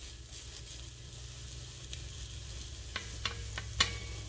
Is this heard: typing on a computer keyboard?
no